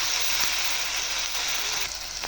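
Turmeric, salt and spices frying in a pan for dum aloo curry, a loud, even sizzle that holds steady and eases slightly near the end, with a few faint scrapes.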